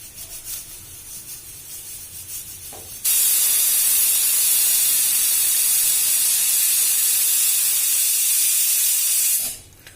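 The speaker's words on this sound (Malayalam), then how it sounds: "കുക്കറിൽ നിന്ന് ഒരു 3 വിസിലായിട്ടുണ്ട്." A kitchen pressure cooker on the stove releases steam in one loud, sustained hissing whistle that starts abruptly, holds steady for several seconds, then cuts off, with quieter room noise before and after.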